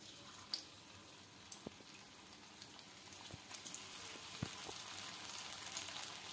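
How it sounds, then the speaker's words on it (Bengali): Potato zinger fries dropped into hot oil over a medium gas flame: a steady, faint hiss of frying with scattered small pops and crackles that grow slightly denser toward the end, no talking. "এখন মানে তেলটা আমার গরম হয়ে গেছে, এগুলো নিয়ে আমি এখন এভাবে দিয়ে দিচ্ছি আর মিডিয়াম ফ্লেমে দিচ্ছি"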